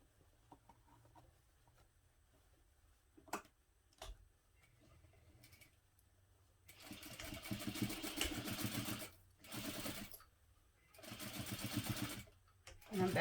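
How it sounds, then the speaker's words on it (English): A sewing machine back stitches the center seam of a tote bag in three bursts of rapid, even mechanical chatter, each a couple of seconds long, with quiet gaps and faint handling clicks between them. "I'm back stitching over that center seam again."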